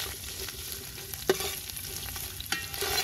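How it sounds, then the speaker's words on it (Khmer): Spices and aromatics frying in hot oil in a pan for a goose sour soup, a constant crackling sizzle punctuated by two distinct metallic spatula knocks, close and free of speech. "យើងលីងវាឲ្យវាឈ្ងុយហើយចេញពណ៌បន្តិច"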